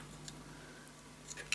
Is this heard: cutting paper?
yes